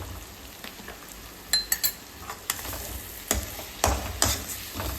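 Vangibath masala powder is stirred in a frying pan over soft sizzling, with several sharp scrapes and clinks of a spoon against the pan, close and without speech.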